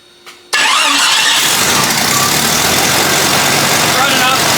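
A vehicle engine fed by a portable bucket fuel pump cranks and fires abruptly, then roars loudly at a high, steady idle close by, with a short electrical whine just before it catches.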